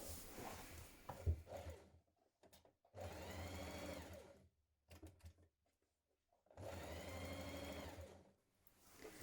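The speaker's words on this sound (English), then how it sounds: "now I'm finishing this with a zigzag stitch on mine" A sewing machine runs a zigzag stitch along a trimmed dress neckline, in three close bursts of fast, even whirring separated by short silent gaps.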